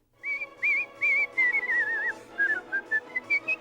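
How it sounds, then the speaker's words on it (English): A person whistles a classical melody at a whistlers' convention: clear, close, sustained notes in quick phrases with bending runs and short breaks, heard alone. "You have to be a lot more versatile to whistle the classical music because it has the runs and different things like that."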